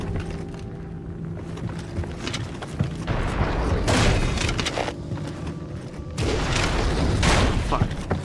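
Sustained gunfire from a gun battle in the samurai action game Nioh, with dense, loud bursts of shots and booming impacts, swelling heavier in the later seconds, over a constant game soundscape.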